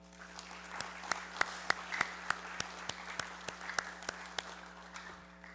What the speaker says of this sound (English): May I ask that we give them a round of applause?